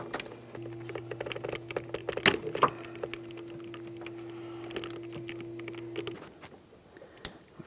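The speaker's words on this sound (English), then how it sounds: "To remove this locking clip, you can use an angled pick." An angled metal pick prying a locking clip off a heater hose connector tee on a 2000-2006 Chevrolet Tahoe, heard as scattered small clicks and scrapes close up, with a faint steady hum underneath.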